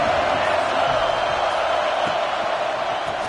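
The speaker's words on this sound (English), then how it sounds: "This crowd ready to make its presence known." A football stadium crowd roars in a broad, sustained wash of cheering at steady loudness, with no single voice standing out.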